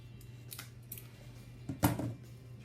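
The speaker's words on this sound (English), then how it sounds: "I'm just going to cut the bottom of that photo off" Scissors snip through the bottom edge of a printed photo in a memory planner, a few quiet, crisp cuts with one louder close snip near the end, no talking.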